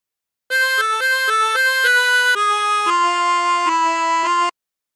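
A harmonica plays a phrase of a song, a run of clear, sustained single notes in a bright, reedy tone, loud and alone over about four seconds.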